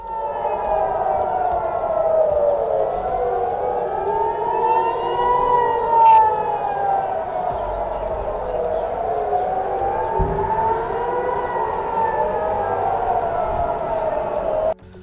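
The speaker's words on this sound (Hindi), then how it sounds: "वहां हवाई हमलों के सायरन बजने लगते हैं" Air raid sirens wail over Tel Aviv in slow, rising and falling sweeps, loud and steady throughout, with one tone arcing above another and a faint murmur of street noise beneath.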